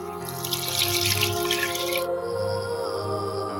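Water runs from a kitchen tap into a bowl for cooking biryani rice, a steady splashing gush that stops abruptly partway through, leaving a low hum.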